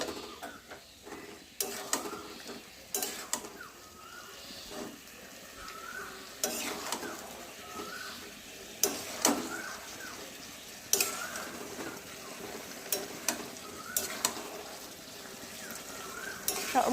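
Spiced vegetables for Bengali sukto are stirred in a frying pan, with a steady sizzle and repeated scraping strokes of a spatula against the pan at an irregular rhythm, close and moderately loud, with no talking.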